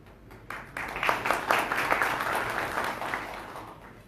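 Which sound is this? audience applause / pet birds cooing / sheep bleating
audience applause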